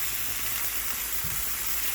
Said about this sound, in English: Set my onions in. See how I can get those going